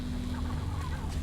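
Seagulls in the video game Before Your Eyes give squawking, clucking calls over a low steady hum, short and fairly close, with no speech.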